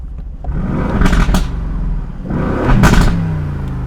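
A powerful turbocharged V8 engine, shared by the Aston Martin Vantage and Mercedes-AMG C63, revs twice, each burst rising to a loud throaty roar before easing back, close and with no voices.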